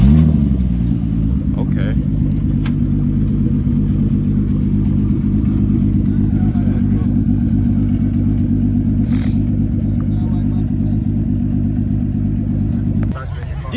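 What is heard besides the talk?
Porsche car engine starting and running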